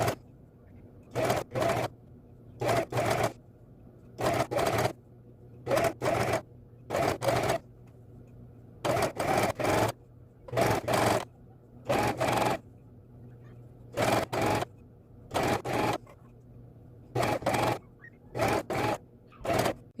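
Coverstitch sewing machine stitching a folded band onto leggings, a close mechanical whir in short repeated runs of about a second each, with steady low motor hum between bursts.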